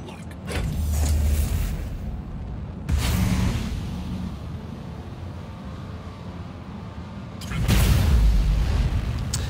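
Size 9 torpedoes fire and detonate in a space combat video game; three heavy booming bursts with rumbling low ends hit loudly, separated by a quieter droning mechanical hum.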